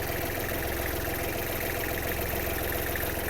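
A Kubota L1-215 mini tractor's 1.4-litre diesel engine idles steadily close by, its low chugging rumble and exhaust drone continuous and even throughout.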